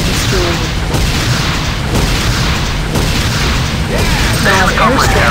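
In the Renegade video game a structure is destroyed amid repeated booming explosions and heavy rumbling blasts, loud and dense, with bursts recurring about once a second and a game announcer voice partly over them.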